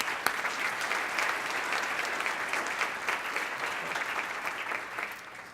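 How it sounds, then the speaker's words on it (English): Audience applause fills a clergy conference hall, a steady dense clapping from many hands that holds loud and even for several seconds before easing slightly at the end. "We want to also thank them with applause for their work."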